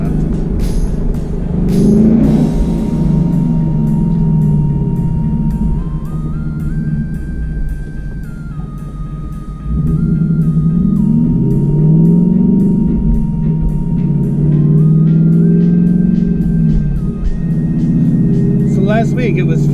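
A car in Germany drives under a bridge, its engine a steady, loud rumble that rises and falls in pitch as it moves, with no talk over it.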